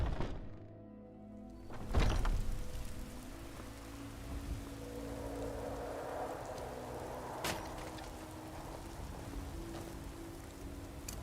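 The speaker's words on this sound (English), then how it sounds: "I enjoy the rain sound." Steady rain in Skyrim patters softly and continuously, with a dull thunk early on and a sharp tap partway through.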